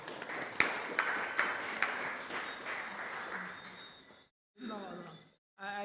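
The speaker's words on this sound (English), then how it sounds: "Bartholomew deserves a better round of applause than that." An audience at a council for the disabled event in St. Paul's, Grenada, gives a round of applause: scattered, moderately loud clapping with a few sharp claps that fades out, followed by people talking.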